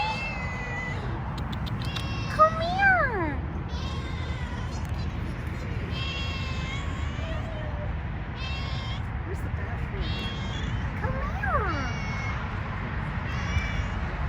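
A cat meows repeatedly, some calls rising and bending, heard clearly alongside a person talking softly nearby over steady background hum.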